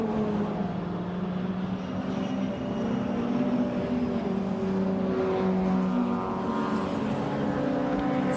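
Racing cars lapping the Brands Hatch circuit during an MG Car Club race, a steady loud engine drone with sustained tonal whine that swells and fades as cars pass, continuous with no talk.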